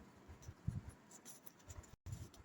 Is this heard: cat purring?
no